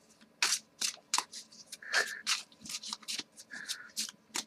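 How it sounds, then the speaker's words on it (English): Tarot cards being shuffled by hand at close range, a run of crisp riffling bursts and soft slaps in an irregular rhythm, with no talk over them. "I shuffle the cards"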